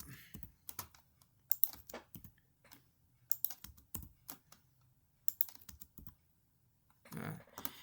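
Computer keyboard typing and pasting with Ctrl V, scattered close key clicks in short irregular bursts with quiet gaps between, no talk.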